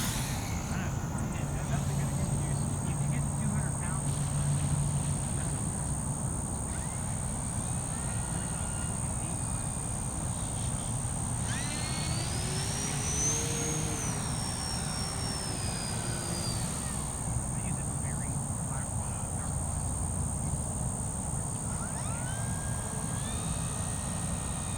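A radio-controlled model floatplane's engine flies by as a thin whine that rises and falls in pitch around the middle, fairly distant under steady outdoor noise, while someone talks throughout.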